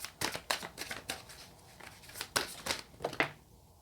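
Tarot cards being shuffled by hand, a series of crisp papery riffles and flicks in uneven bursts, close and fairly quiet, ending as a final card is drawn.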